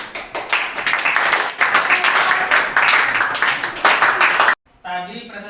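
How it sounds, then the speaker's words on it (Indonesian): A classroom of students claps after a group presentation, bursts of dense hand clapping that swell and dip for several seconds before stopping abruptly, followed by a moment of talk. "Yuk tepuk tangan."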